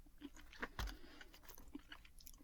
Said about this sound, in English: but nice and crunchy, pretzely.